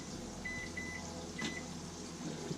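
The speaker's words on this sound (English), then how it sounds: "Hit that kitchen timer." Kitchen timer gives a few short, high electronic beeps in a quiet kitchen, with a soft background hum.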